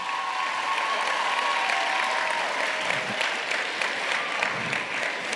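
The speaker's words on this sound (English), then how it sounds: "give those past students a round of applause." A graduation ceremony audience applauds steadily with a dense wash of clapping hands that fills the hall for several seconds at an even, sustained level.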